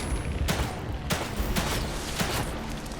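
Gunshots aimed at an enemy's arm in the video game The Evil Within 2, a series of sharp reports spaced roughly half a second apart over dense, noisy game sound.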